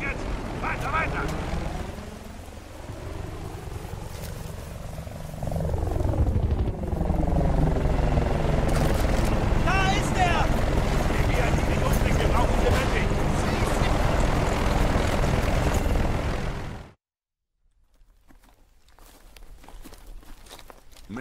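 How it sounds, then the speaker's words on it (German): Loud, throbbing video game helicopter rotor noise from Battlefield Bad Company 2, with rising and falling engine tones, sustained for many seconds before cutting off abruptly into near silence. "der Heli ist seinetwegen hier"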